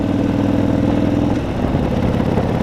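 A Harley-Davidson Sportster 72 motorcycle rides along a road at night, its engine giving a steady, loud, close rumble with a low, even throb that continues throughout.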